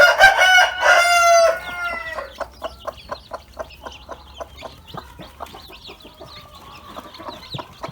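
A broody Cochin bantam hen with her chicks: loud, drawn-out harmonic calls open the clip, then a steady run of short, close clucks repeating roughly twice a second, with faint chick peeps in the background.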